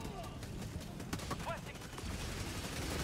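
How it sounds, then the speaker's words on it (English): Rapid gunfire bursts rattle through a busy Helldivers 2 battle, fairly faint under a dense wash of combat noise. "I think I just shot that guy in the head."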